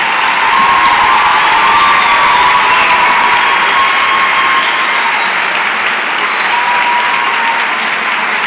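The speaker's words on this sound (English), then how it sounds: "Please give them a round of applause." Loud, sustained applause fills a high school graduation ceremony for award and scholarship recipients, dense clapping with some cheering and scattered shouts from the crowd throughout.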